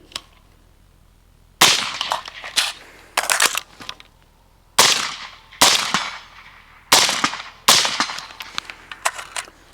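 Seven sharp, loud gunshots from an MK18 Block II rifle with underpowered ammunition ring out at a range, spaced irregularly about a second apart, each followed by a short echoing decay, with no talking.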